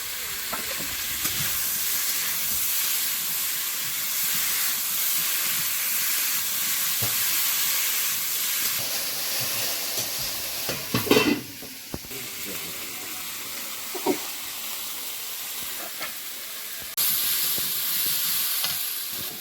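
Tomato and green chilli fry with potatoes in a pan, giving a continuous loud sizzle and hiss with occasional stirring knocks and a brief burst of steam midway.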